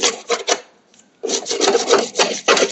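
A scraper rasps debris off a lawn mower deck in short, loud strokes, three quick scrapes, a brief pause, then a longer run of rough back-and-forth scraping up close.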